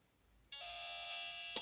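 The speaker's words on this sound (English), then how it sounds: "the delay's ended and the alarm has come on" A hobby-built electronic alarm circuit from a breadboard experiment switches on after its delay, a steady, buzzy electronic tone that starts abruptly and holds evenly in a quiet room.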